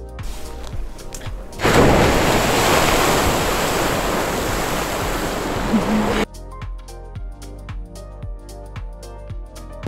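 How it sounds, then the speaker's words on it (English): A loud, steady roar of rushing water from Gullfoss waterfall in Iceland fills the middle stretch, close by, framed by quieter passages with soft tones before and after. "We are at the next stop now, which is Gullfoss Waterfall."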